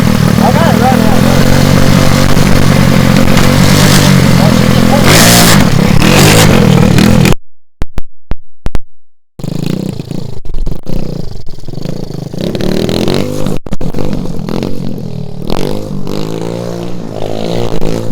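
Pit bike engine running and revving, a loud close rattling engine note that cuts out briefly, then sputters back with uneven revs while people talk over it.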